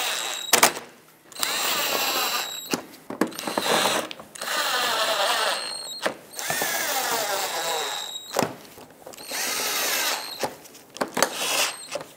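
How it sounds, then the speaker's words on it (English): Screws being driven back in by a power drill on a 2014–2021 Mazda 6 front bumper, repeated close whirring bursts with ratcheting mechanical texture, separated by short pauses and small handling clicks. "Put in all the screws that hold this on."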